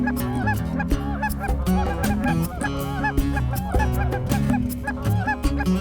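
A flock of geese flies in over a decoy spread in a North Dakota field, honking loudly and without a break in dense overlapping calls over a steady low rumble.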